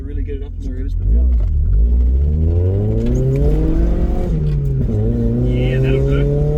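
A modified daily-driven car, being turned toward track use, accelerates hard from low revs, its engine note climbing steadily and loud up close.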